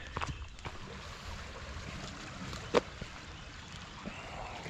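Big Elk Creek, a clear Pennsylvania stream near a trail bridge, flows with a steady soft rush and trickle, with faint outdoor noise and one brief knock partway through.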